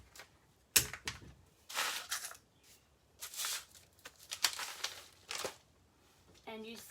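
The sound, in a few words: furniture transfer sheet releasing while being peeled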